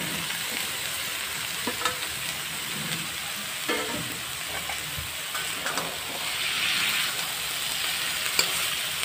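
Washed vegetables dropped into a hot pan give a steady, close sizzle with faint scraping and stirring clicks throughout, swelling a little near the end; no one speaks.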